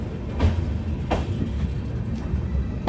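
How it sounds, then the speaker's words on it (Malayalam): The Himsagar Express pulls out of Udhampur station with a low, steady rumble and faint rhythmic wheel clicks throughout. "അങ്ങനെ ഉധംപൂരിൽ നിന്ന് ട്രെയിൻ എടുത്തു"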